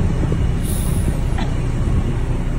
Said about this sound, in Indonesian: Truk dah mula jalan